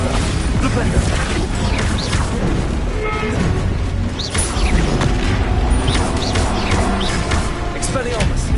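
Bombarda and Flipendo spells cast in Hogwarts Legacy burst in a dense, continuous stream of crashing booms and whooshing impacts, with voices mixed into the clamor.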